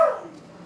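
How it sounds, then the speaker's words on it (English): A pet dog at home gives a single short, faint bark, off in the background, which quickly fades. "You hear my dog in the background?"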